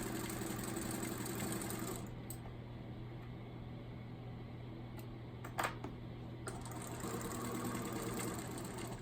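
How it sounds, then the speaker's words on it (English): A sewing machine stitches the last side of a square-in-a-square quilt block seam, a quiet, steady mechanical hum that runs continuously with a couple of faint clicks in the middle. "Stitch down that last side."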